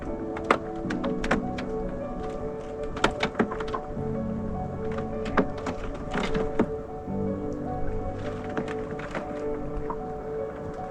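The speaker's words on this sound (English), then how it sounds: "Here I stood for some time listening to the melting ice crack." Melting ice on a Highland lake cracks and pings with scattered sharp ticks, knocks and resonant tones, irregular and moderately close over a low ambient background.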